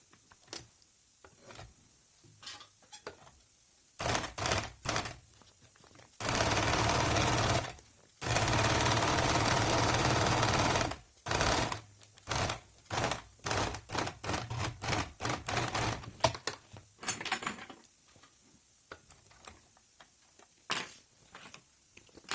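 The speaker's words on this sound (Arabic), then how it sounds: "نعاود نخيط هذه من الداخل" Sewing machine stitching fabric for a beginner's pouch project, running in several bursts of rapid mechanical whirring, two of them sustained for a couple of seconds, separated by clicks, taps and short pauses, close and fairly loud.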